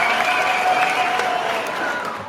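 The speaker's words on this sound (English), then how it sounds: "The crowd goes wild." A crowd claps and cheers in a steady, loud wash of applause that tapers slightly toward the end.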